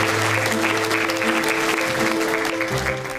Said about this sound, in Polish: myślę, że należą się gromkie oklaski dla naszego.